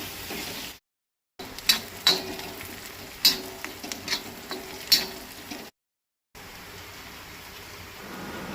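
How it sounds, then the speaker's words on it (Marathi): Chopped onion frying in a pan for a Goan mushroom tonak, a steady crackling sizzle with scattered sharp pops and stirring scrapes, close up and without voices, broken by two short silent gaps. "लायट ब्रावन जायसर कांदो तळसून घेवपाक जाय।"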